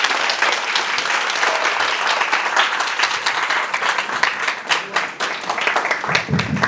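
An audience at a youth entrepreneurship mentoring lecture breaks into sustained, loud applause, many hands clapping densely and evenly for several seconds.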